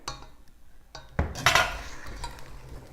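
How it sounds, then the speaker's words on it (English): Rhubarb being stirred into an egg mixture in a bowl, with a few soft clinks of utensil against the bowl, a sharper scrape and clatter in the middle, then quieter mixing noise. "we're going to take that and just mix that in with the egg mixture here"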